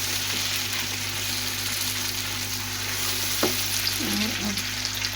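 Frozen green chili paste sizzles steadily in a hot pan while turnip and meat curry cooks, with a few brief stirring scrapes and clinks partway through; no one speaks.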